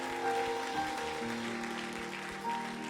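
A church congregation applauds steadily at a French-language service, a dense even patter of clapping that holds moderately loud for the full few seconds with no voices on top.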